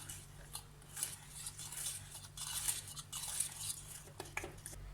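Soft metallic scraping and light clinks of a utensil stirring whipped cream mix in a pot, repeated irregularly over a low steady hum.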